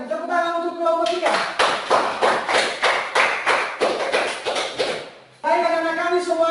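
Children in a classroom clap for a student group, a series of rhythmic, unison hand claps with thudding beats at a steady pace, while voices can be heard before and after the clapping.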